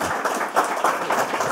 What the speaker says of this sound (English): Big round of applause for Pat and Sokpop.